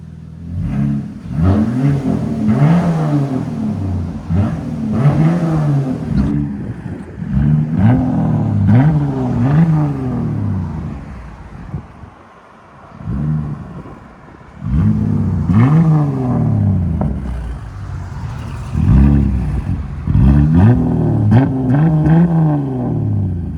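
A 2022 Jeep Grand Cherokee Trailhawk with a 3.6L engine and straight pipes is revved repeatedly, each loud, raspy burst climbing and falling back, in several clusters with a brief quieter idle partway through and no talking.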